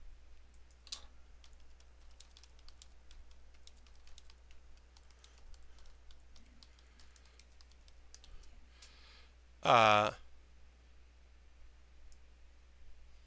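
Typing on a computer keyboard in a workshop, a steady run of soft clicks and taps, fairly quiet against a low hum, with one louder knock near the end.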